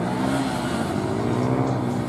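A stock Honda CB500 motorcycle rides a moto gymkhana course, its engine droning loud and close with a steady tone that rises and dips slightly as the rider works the throttle, and no talk over it.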